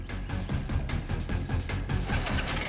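Motorcycle engine running steadily and close, a dense rumbling roar with slight fluctuations in revs, played as one of several bike sounds to identify in a garage setting.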